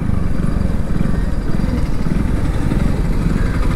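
A motorcycle ridden into the Talwara bus stand in Punjab, its engine running steadily and loud at close range without a break.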